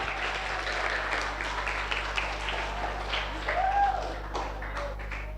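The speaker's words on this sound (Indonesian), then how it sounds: "Tepuk tangan dulu, tepuk tangan lagi." An audience claps after a legal awareness presentation, a moderate, steady patter of hands over a low background hum, with a few louder individual claps near the end.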